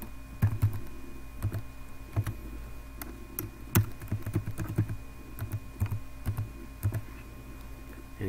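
A passphrase is typed on a computer keyboard in quick, uneven bursts of close, crisp keystrokes over a faint steady hum, with short gaps between runs of keys.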